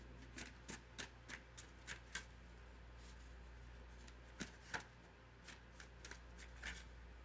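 Tarot cards are shuffled in a quiet room: a rapid series of crisp riffling flicks and snaps, close and fairly faint, repeating in short bursts over a low hum.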